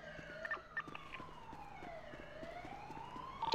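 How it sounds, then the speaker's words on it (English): Several emergency vehicle sirens wail together nearby, steady rising and falling tones sweeping over a low background hum, fairly faint but continuous. "Those sirens sound fucked. They sound close."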